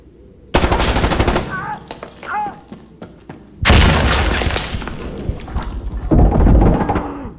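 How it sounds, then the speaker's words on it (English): A grenade detonates in the military shooter Insurgency Sandstorm, two loud, booming blasts with rumbling tails amid close gunfire and battle noise. "I'm gonna nade into there."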